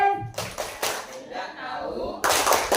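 A group of teachers at a workshop claps hands in a patterned rhythm of bursts and pauses, with voices chanting along, close and loud.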